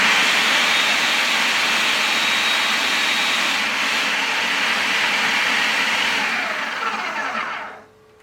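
A Homtone food processor runs continuously as it minces, a loud, dense whirring roar that holds steady for several seconds before the motor cuts out and fades at the end.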